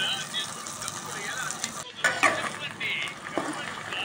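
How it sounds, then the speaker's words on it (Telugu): Gongura paste for pickle fries in oil in a pan, a steady close sizzle broken by scraping stirs of a spoon against the metal. "గోంగూర అంతా ఎర్రగా వేగిపోవాలండి, అప్పుడే బాగుంటుంది"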